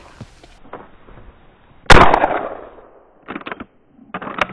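A single sharp, loud Henry rifle shot fired at a jackrabbit in snowy Nevada country, cracking suddenly and trailing off in a decaying echo, bracketed by quieter rustling and handling noise.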